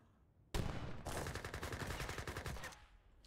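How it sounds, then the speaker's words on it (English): Sustained rapid-fire bursts of Gatling guns in an Age of Empires style strategy game, starting abruptly and rattling continuously for a couple of seconds before cutting off, loud and close with no talk over them. "The only problem is firing against these Gatlings"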